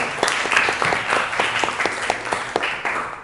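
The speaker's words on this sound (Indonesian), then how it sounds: "Tepuk tangan untuk kita semua." A high school class in Trenggalek claps together, a steady, close burst of many hands filling the room for a few seconds with no talking over it.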